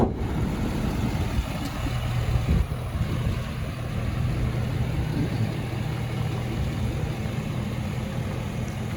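A 2015 Ford F-350 Super Duty Lariat's 6.7-liter V8 Power Stroke turbo diesel idles smoothly and steadily, a close, continuous low rumble with no speech.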